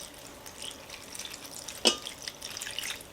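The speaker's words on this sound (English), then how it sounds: "Now I'm adding my cup of water." Water is poured from a cup into an Instant Pot holding spinach, giving a faint, splashy trickle with a sharper splash near the middle, close up in a quiet kitchen.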